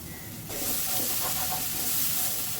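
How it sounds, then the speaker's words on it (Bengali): Ground mustard paste with a little water sizzles and steams hard in a covered pan, a dense steady hiss that jumps in loudly after a brief quieter start and holds close and even throughout. "এই মশলাটাকে এখন ভালোভাবে কষাতে হবে।"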